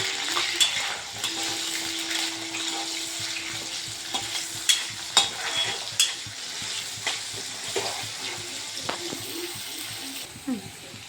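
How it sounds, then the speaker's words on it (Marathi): Onions fry over a high flame in a pan for dhaba-style palak paneer, a loud continuous sizzle punctuated by repeated spatula scrapes and knocks, with a faint voice murmuring at times. "गॅसची फ्लेम जी आहे ती थोडी हाय करून कांदे आपण फ्राय करून घेणार आहोत"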